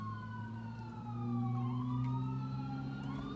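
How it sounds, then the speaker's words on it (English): An ambulance siren wails past on the street, its rising and falling tones sliding in pitch as it goes by, loud and steady with a low engine rumble beneath and no talk. "the ambulance just went by"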